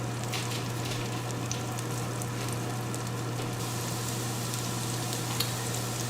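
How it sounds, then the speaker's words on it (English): Garlic sizzles in melted butter in a pan with a steady, close crackle and fine popping, continuous throughout with no talk. "Let the garlic sit in the butter for a couple minutes"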